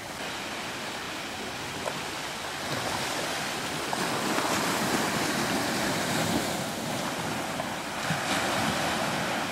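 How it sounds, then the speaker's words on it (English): Ocean waves crisscrossing near a forested shore in Sitka, a steady broadband wash of surf with gusty wind noise rising and falling throughout, no voices. "Crisscrossing waves."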